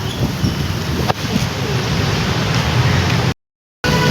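Steady rain pours down at a Ganesh idol market in Surat, a dense even hiss that holds throughout, with a brief cut to silence near the end.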